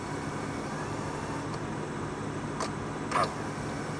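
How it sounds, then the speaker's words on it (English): A steady engine hum in a 2005 Toyota Prius with a couple of brief clicks near the end, as the air-conditioning compressor disengages after cooling the cabin. "the compressor is just kicking off because it cooled the cabin area down"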